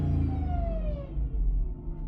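A 2005 Jeep Grand Cherokee with O2 sensor fault codes revs from idle, a deep engine rumble carrying a whining tone that slides downward as the revs fall away, close and alone.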